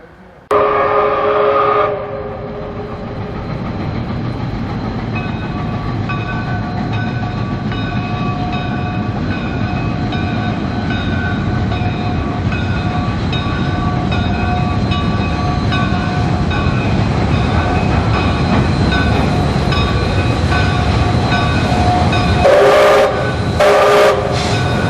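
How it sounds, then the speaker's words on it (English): Canadian Pacific Hudson steam locomotive 2816 approaching on the old Milwaukee Road line, its whistle sounding long sustained harmonic blasts while the train's steady rumble builds, loud and continuous throughout, with a brief burst of noise near the end. "we then heard the whistle of 2816 in the distance"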